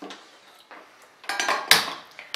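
A steel pot, a burned utensil filled with water, is set on a gas stove with a few light metallic clinks and clanks, growing louder toward a sharp final clatter.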